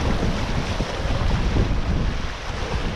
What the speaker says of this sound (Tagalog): Yung alon.